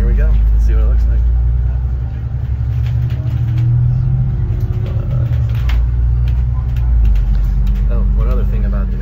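A city bus pulls away from Auckland Airport, its engine a steady low rumble with road noise throughout, close and loud, while people talk over it.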